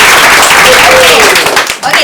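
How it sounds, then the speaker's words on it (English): A classroom of students applauds a classmate, a dense, loud wash of clapping that fills the moment and then thins out at the end, with voices mixed in. "how many claps you want to give him?"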